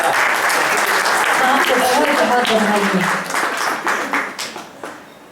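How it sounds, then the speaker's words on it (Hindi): An audience at a Hindi poetry evening in Houston claps and cheers loudly at first, then the applause thins into scattered claps and fades out. A voice speaks over the clapping. "नहीं जोरदार तालियां हो रही है।"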